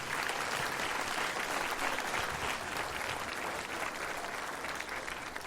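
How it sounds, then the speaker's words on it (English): An audience gives a round of applause for a woman, a continuous wash of many hands clapping at a steady level, heard from a distance without breaks. "Give her a round of applause"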